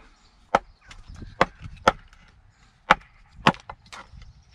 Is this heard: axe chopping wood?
yes